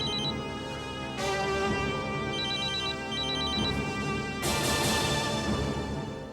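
A telephone rings indoors with a repeating electronic ringtone of bright beeping tones, loud and steady over a faint musical background.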